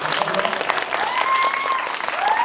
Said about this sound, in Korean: 오늘 좋은 말씀 들려주신 세 분께 큰 박수 드리면서